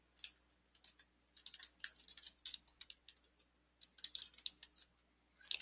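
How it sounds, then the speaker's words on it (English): Fingers type on a computer keyboard while entering an agency name, quiet clicky keystrokes in quick bursts separated by short pauses, close up and with no talking. "I'm going to go ahead and type in my agency name"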